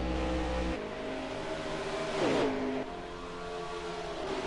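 A pack of race cars at Indy during the World 100, their engines droning and whining together at a distance, with one car rising in a short passing surge before the sound settles back to a steady hum.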